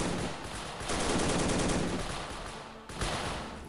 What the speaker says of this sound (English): 哦，是个机枪手。